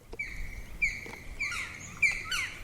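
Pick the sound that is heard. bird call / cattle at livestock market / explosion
bird call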